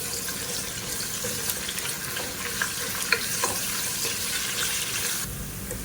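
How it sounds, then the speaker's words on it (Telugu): Green chilies and curry leaves, added after onion, frying in hot oil for a fish curry, giving a steady close sizzle with light crackles throughout. "వీటిని బాగా ఆయిల్లో వేయించుకోవాలి"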